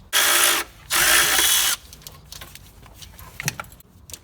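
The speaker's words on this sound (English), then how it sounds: "using a 10mm socket, we're going to remove the bolt that holds on this bracket" A 10mm socket on a ratchet works a bracket bolt loose on a Nissan Titan pickup: two fast, loud bursts of ratcheting clicks, followed by quieter metallic taps and handling of parts.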